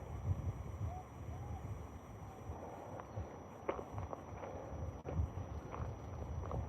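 Wind gusts buffet the microphone with a low, rumbling roar, steady throughout with a few faint knocks and rustles.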